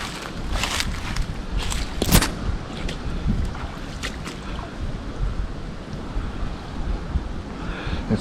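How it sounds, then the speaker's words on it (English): Strong outdoor wind rushes and buffets steadily for several seconds, a loud broadband roar with occasional gusts and faint rustling, and no voices. "It's a really windy day."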